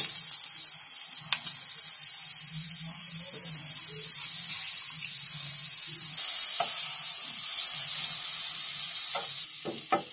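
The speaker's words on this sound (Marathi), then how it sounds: "आता बटर टाकते।" Butter melting in a hot pan at the start of a homemade tomato soup gives a steady sizzle with faint scraping and a few light clicks, close and fairly loud, with no talking.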